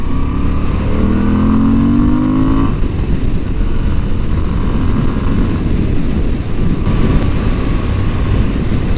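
Moto Guzzi V7 850 Special motorcycle from 2022, its engine revving and dropping back off, loud and close with a steady roar and rising, falling harmonic tones, no talking.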